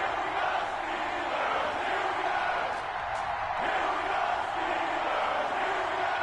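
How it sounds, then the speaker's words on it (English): A stadium crowd in an EA Sports NFL video game, Packers versus Steelers, roaring and cheering in a continuous dense wash with occasional whoops, steady throughout. "This crowd is ready as their guys get set to match up between the Green Bay Packers and the Pittsburgh Steelers."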